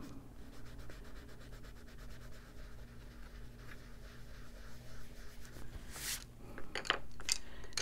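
A pencil rubs softly back and forth on paper while colouring, a quiet, continuous scratchy texture with a few sharper strokes near the end.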